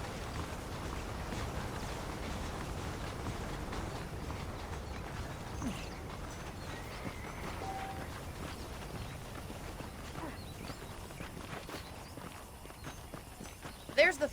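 Horse hooves clip-clop at a steady walking pace in the Red Dead Redemption video game, moderately loud and continuous beneath a dense background of game ambience.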